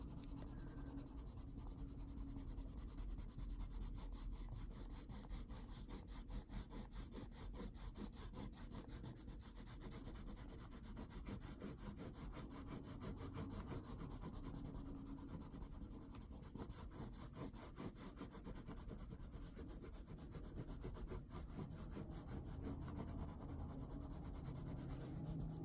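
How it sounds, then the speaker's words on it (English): Colored pencil pressed hard against paper to burnish it, a steady dense scratchy rubbing that runs continuously and close up, with no voices. "I'm putting a lot of pressure on this so I can, that's burnishing the paper."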